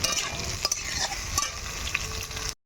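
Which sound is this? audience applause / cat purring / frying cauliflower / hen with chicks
frying cauliflower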